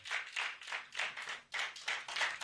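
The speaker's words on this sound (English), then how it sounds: "Please, a round of applause for her." Audience clapping at a pharmacists' conference and exhibition, a moderate, fairly sparse round with rhythmic bursts of hand claps that swell and dip for a couple of seconds, no talk over it.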